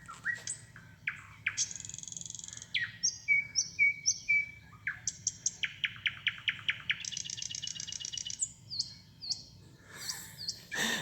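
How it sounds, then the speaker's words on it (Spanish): Recorded birdsong played through speakers in a bathroom: a steady run of bright chirps, trills and repeated tweets from several birds, fairly close and clear over a low background hum, with no talking. "tiene ruido de pájaro"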